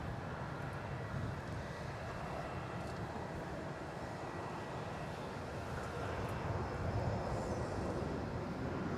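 A jet taking off at Melbourne Airport, a distant, steady broadband engine roar that holds level for several seconds and swells slightly toward the end, heard from afar with no voices.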